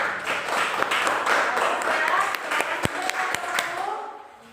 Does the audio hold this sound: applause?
yes